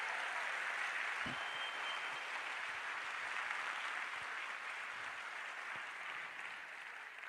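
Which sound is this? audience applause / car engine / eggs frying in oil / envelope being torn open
audience applause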